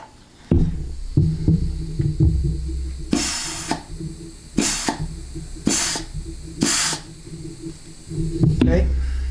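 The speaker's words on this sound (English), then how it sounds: "the little bit of air you're hearing is this nozzle" Short bursts of compressed air hiss from a hard plastic nozzle pressed against transmission clutch packs, four or five separate puffs with quiet clicks and handling noise between them.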